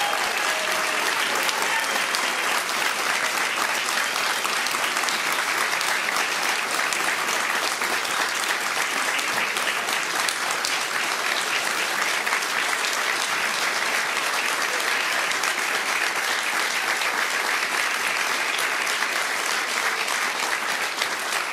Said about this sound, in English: For a minute, I thought you were clapping for me when I came out.